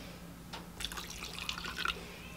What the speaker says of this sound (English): just put a little bit of water in just to help it